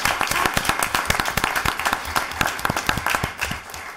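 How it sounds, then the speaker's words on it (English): Applause for a school sports team at a Board of Education meeting: many hands clapping in dense, steady bursts that fill the room for a few seconds, fading slightly at the end. "So I think that certainly deserves a round of applause at their hard work."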